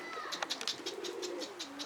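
Pigeons coo softly while they feed on grain, a steady string of low throaty coos with light fluttering, fairly quiet and close.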